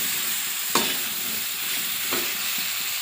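Chili powder, cumin and ginger paste stirred in a hot pan for a Bengali fish curry, with a steady frying sizzle and two brief scraping strokes of the spoon; no talking.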